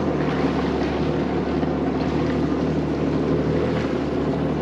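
Wind blows across a boat out on the water, a constant loud rushing roar with no breaks and no voices.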